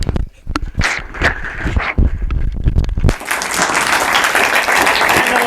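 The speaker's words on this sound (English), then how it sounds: "a round of applause for Shivan." Audience applause for a presenter at a spring community arts-of-communication event, starting after about three seconds of sparse, scattered noises and then swelling into steady, dense clapping from a crowd.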